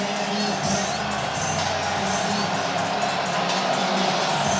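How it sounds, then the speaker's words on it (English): Football stadium crowd at a Florida State vs Louisville college game, a loud continuous roar of many voices sustained throughout with no break. "Crowd starting to become a factor."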